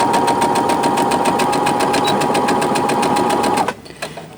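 A sewing machine stitches a jacket lining in a steady, loud, fast mechanical run of needle strokes that stops abruptly near the end, followed by a few faint handling clicks.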